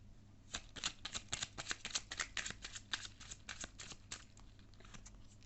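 Tarot cards being drawn and laid out, a dense run of quick papery flicks, snaps and shuffling riffles, close and fairly soft, continuous and uneven in rhythm, with no talk.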